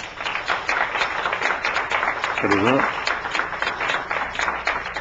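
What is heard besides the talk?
audience applause in church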